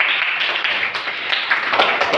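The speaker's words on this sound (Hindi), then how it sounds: "इनके लिए एक जोरदार ताली बजाइए आप लोग" Students in a classroom clapping loudly together, a steady dense patter of many hands that fills the whole short stretch without pause.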